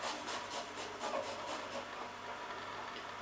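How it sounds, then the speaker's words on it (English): Garlic is grated on a microplane grater, giving a run of rhythmic scraping strokes, about seven quick rasps, then a softer continuing rub, close and fairly quiet. "So I grate the garlic into it"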